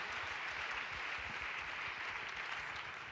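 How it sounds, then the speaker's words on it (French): Dense crowd applause, a steady wash of clapping from many hands throughout, moderately loud with no speech. "On peut l'applaudir."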